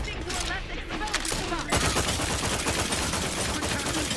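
Rapid bursts of gunfire in the shooter game The Outer Worlds 2, a dense, steady volley of shots in the second half after a brief stretch of voiced game chatter.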